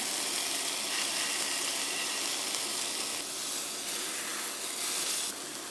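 Meat frying in a pan just after being flipped, producing a loud, continuous hissing sizzle that holds steady with slight surges and dips.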